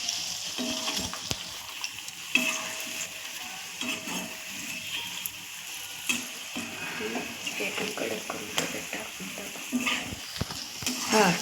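Food being stirred as it fries in a pan, with steady sizzling and scraping strokes across the cooking surface and occasional clinks of utensil on metal, under a voice speaking.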